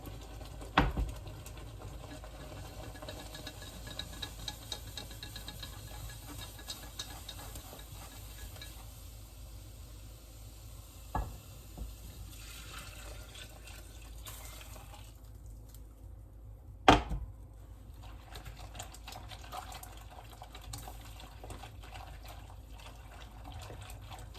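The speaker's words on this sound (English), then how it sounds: "You're going to want to whisk really well during this process to eliminate any lumps." A whisk stirs a sauce made with an onion piqué to work out lumps. Quiet, steady swishing runs throughout, with a few sharp clinks against the pan.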